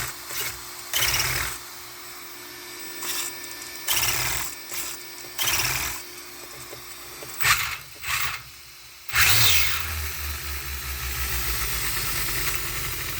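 A Fijon FJ9 RC car with a 6-turn brushed motor makes repeated short bursts of high motor whine and hiss as it accelerates, ending in a longer sustained run nearby.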